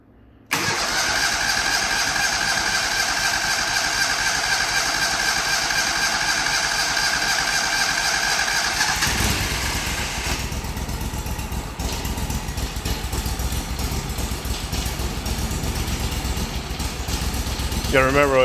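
A 25hp Kohler engine, freshly fitted with a new head gasket, cranks and catches, then runs at a steady loud idle that drops to a rougher, lower note partway through, with a voice talking over it near the end.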